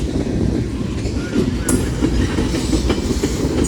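A Union Pacific mixed freight train with sodium hydroxide tank cars rolls past up close, a steady loud rumble of wheels on rail with rhythmic clicks and a brief squeal, no voices.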